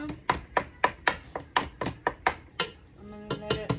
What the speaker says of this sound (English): I'm gonna break it apart with the spatula.